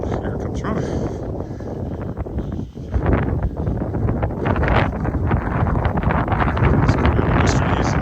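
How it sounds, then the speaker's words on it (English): Cold northwest wind buffets the microphone on a December Christmas Eve walk around Wascana Lake in Regina, a steady broadband roar with gusts that runs the whole time, with a voice talking over it. "the wind's blowing from the northwest, it feels like"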